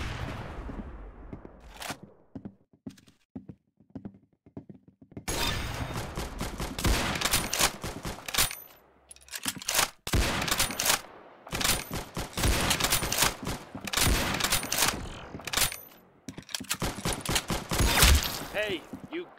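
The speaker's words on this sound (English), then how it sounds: "Very good shooting." Rapid bursts of gunfire crack through the scene, sparse single shots at first and then dense, loud volleys of repeated shooting, with people's voices mixed in among the shots.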